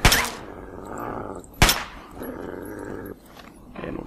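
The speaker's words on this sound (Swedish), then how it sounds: "som ilskna hundar som anfaller mitt ute i ingenting här" Angry dogs attacking in the video game Fallout 3, harsh snarls and growls with two sharp impact bursts, likely gunfire, and rumbling game noise between them, loud and close.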